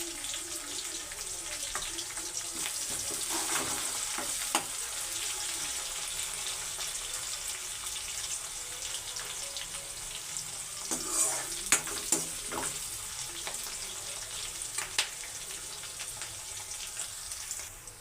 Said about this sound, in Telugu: ఉల్లిపాయ పచ్చిమిర్చి అయితే వేగిపోయినాయి